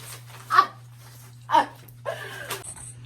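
A dog gives three short barks or yips, spaced about a second apart, fairly close, over a steady low mains hum with a brief high tone near the end.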